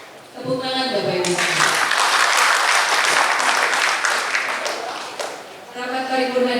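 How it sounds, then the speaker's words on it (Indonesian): Applause in a city council plenary session: a voice speaks, then a loud burst of clapping swells and holds for several seconds before fading as speech resumes. "Tepuk tangan Bapak Ibu"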